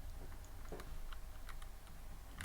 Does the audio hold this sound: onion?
no